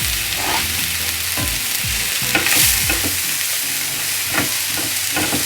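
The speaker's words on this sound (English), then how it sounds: "Then you want to add your onions, garlic and ginger, and just fry that off for around 5 minutes." Onions, garlic and ginger frying in a pan sizzle steadily up close, with frequent stirring scrapes and clatters of the spatula against the pan throughout.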